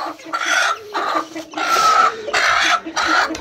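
A chicken clucks and squawks loudly while people try to catch it in a coop: a string of close, harsh bursts of agitated cackling, each separated by brief pauses.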